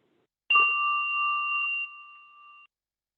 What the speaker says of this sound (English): We have the bell.